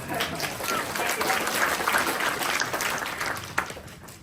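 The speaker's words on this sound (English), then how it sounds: "let's give it a round of applause" A moderate round of audience applause for panelists at an AI film festival panel, even clapping with a faint voice beneath it and a single sharper clap near the end.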